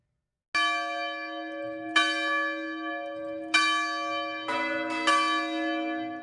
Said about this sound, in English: When the bells ring at Zion Lutheran Church in Appleton